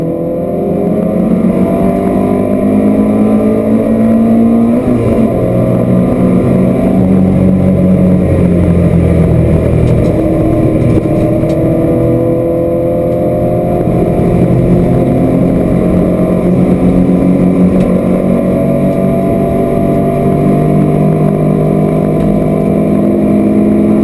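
Classic cars race at Mallory Park circuit, a loud continuous roar of several engines rising and falling as they pass, with steady revving throughout and no talk.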